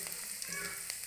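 Thick-chopped garlic cloves fry in oil in a pan, giving a soft, steady sizzle with faint crackles up close and no talking.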